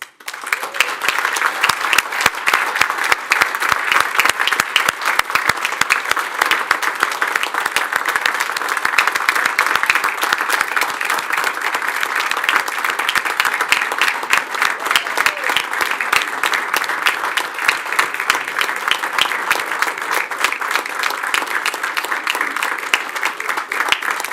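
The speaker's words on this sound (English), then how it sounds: "Give them all a round of applause." Sustained audience applause at a Frederick County Division of Fire and Rescue Services paramedic graduation ceremony, dense steady clapping from a large crowd lasting the whole stretch without a break.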